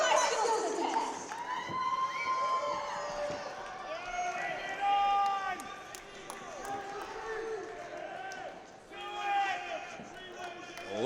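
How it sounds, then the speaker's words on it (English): A wrestling crowd chants and cheers for a three-way dance match, loud rising and falling shouts filling the arena with some voices talking over it. "Crowd here chanting for a 3-way dance."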